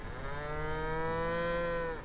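A cow in a Legend of Zelda game gives one long, steady moo lasting about two seconds, close and clear with no talking.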